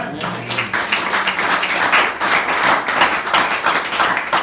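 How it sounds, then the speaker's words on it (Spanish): A church congregation claps together during a worship service, a dense, steady clatter of hands sustained throughout, with voices and talk mixed in beneath the applause. "Vamos a aplaudirlo."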